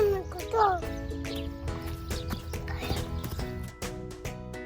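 Horse hooves clip-clopping in an uneven walking rhythm on a rural farm path, sitting under cheerful background music, with a short whinny-like call near the start.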